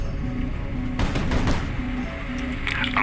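Armor-piercing rounds fired from a warship in the HighFleet video game, a dense, continuous burst of rapid gunfire with a heavy boom partway through, loud and close throughout.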